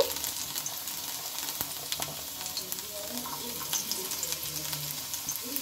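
Chopped garlic fries in a little oil on a griddle, a steady soft sizzle with faint scrapes and no talk.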